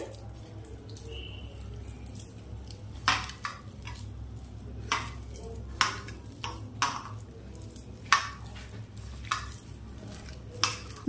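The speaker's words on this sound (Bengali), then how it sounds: "এখন এই আলুগুলো একটু হাত দিয়ে চটকে নিতে হবে।" Boiled, peeled potatoes being mashed by hand in a bowl, giving soft squelching and irregular clicks against the bowl over a low steady hum, with no talk.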